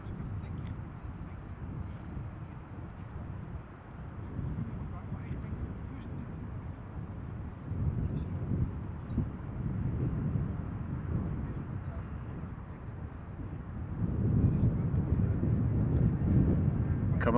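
A Bombardier C-Series 300 airliner arriving at Amsterdam Schiphol makes a distant, low jet roar that slowly swells, with wind rumble on the microphone.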